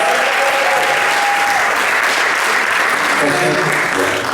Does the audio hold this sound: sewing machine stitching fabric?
no